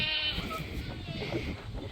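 Goats bleating on a small hobby farm, agitated while their matriarch is out of the pen; the calls come from the background as a brief, moderately faint burst, with people talking nearby.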